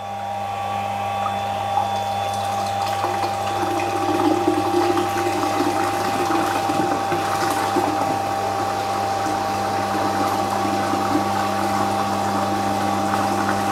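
A water pump being primed and then running as it draws water through a suction pipe, giving a steady loud motor hum with a gushing, sloshing flow that builds and settles into a constant churn.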